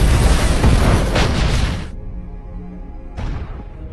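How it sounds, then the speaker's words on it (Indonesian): A booby-trap explosion inside a factory in an action film: a loud, broad blast that rumbles on for about two seconds, cuts to a quieter lingering roar, then flares up again briefly. "akhirnya jebakan yang dipasang broker pun meledak dan membakar seisi pabrik"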